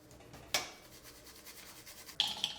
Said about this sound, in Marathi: चाळणी घ्यायची मीठ गाळून टाकायचं